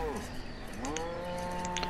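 Cows in the video game Banished moo twice, drawn-out lowing calls at a moderate distance, with faint ambient clinks in the background.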